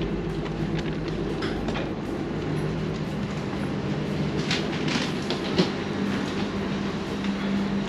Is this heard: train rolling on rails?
yes